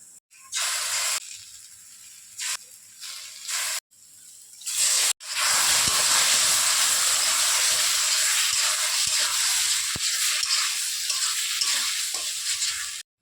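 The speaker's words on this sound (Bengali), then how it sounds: "এবার এর মধ্যে আমি জিরা, আদা, লঙ্কা বাটা দিয়ে কষিয়ে নেব।" Boiled elephant foot yam is sautéed with cumin, ginger and chili paste for a Bengali rohu fish curry. After a few short bursts, a loud, continuous close-up sizzle and hiss fills the pan and holds steady.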